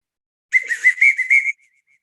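A whistle signal calling people to an activity, one loud, close, shrill blast about a second long with a fast warbling trill, alone in silence.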